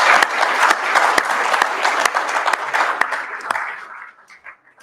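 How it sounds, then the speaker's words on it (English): A gathered audience applauds the speakers at an archbishop's conversation on climate change, with sustained clapping that fades away near the end into quiet. "let us first just give a round of applause for all of our speakers"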